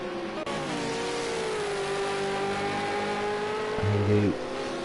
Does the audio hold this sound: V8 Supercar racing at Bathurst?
yes